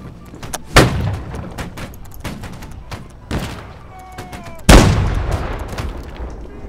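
Gunfire in the Napoleonic-era multiplayer game Holdfast: Nations at War, with a few sharp musket-like shots spaced apart, two of them loud and close, and fainter distant reports between them.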